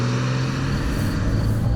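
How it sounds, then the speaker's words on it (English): A 2020 Porsche 992 Carrera 4S in Sport Plus launching hard from a standstill, a loud sustained engine roar with a deep low rumble heard from inside the car, steady and without talk. "Let's just start with a quick launch, just so you can see"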